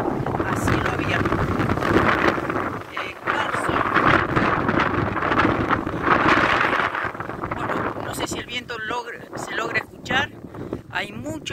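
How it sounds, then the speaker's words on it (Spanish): Strong wind buffets the microphone on a mountaintop at an abandoned open-pit mine, a loud continuous roar that dips and surges, with someone speaking over it near the end. "Hay mucho viento acá arriba"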